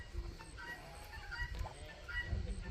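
Ducks mill about in a large duck pen. Faint honking and quacking calls drift through a low, steady background.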